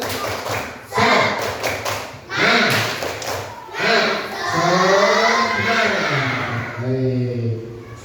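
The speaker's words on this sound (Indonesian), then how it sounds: "Tepuk semangat." Children in an Indonesian classroom perform the 'tepuk semangat' spirit clap, a burst of rhythmic group claps and thumps mixed with chanting voices, fairly loud and close, in several waves.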